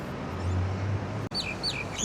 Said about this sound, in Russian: Дерущиеся скворцы.